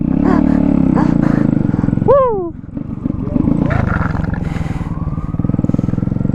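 A Honda Grom motorcycle engine revving loud and close, its steady rumbling drone rising and falling in pitch with a few sharp throttle swells.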